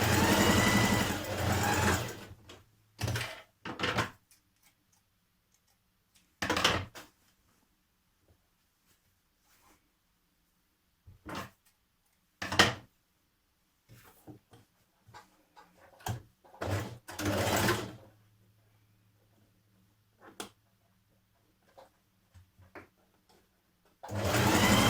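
A domestic sewing machine runs in several short bursts while stitching a dress shoulder seam, whirring close and loud, with quiet handling noises and pauses between runs.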